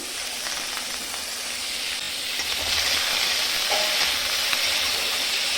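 Chopped onion and garlic fry in hot oil, a steady close hiss and sizzle that swells slightly partway through, with faint stirring and no voices.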